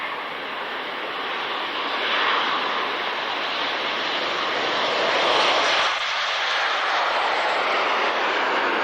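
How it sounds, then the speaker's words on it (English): Loud broadband jet roar of an aircraft taking off at the 1996 International Air Tattoo at Fairford, swelling and sustained as it passes, no voices. "Takeoff speed is about 120 knots."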